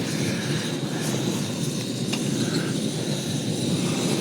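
A steady, loud roar of a Pocket Rocket Deluxe camping stove burner runs without a break, a dense rushing hiss with no voices.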